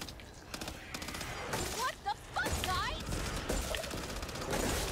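Rapid gunfire bursts from an automatic shotgun in the zombie shooter game Back 4 Blood, dense and loud, layered with game effects, while players talk over the shooting.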